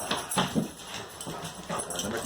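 A dog whimpers and yips in short, soft bursts close by, the small sounds spread unevenly over a brief moment with light background noise.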